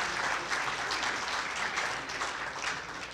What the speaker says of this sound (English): We'll give you a round of applause for yourselves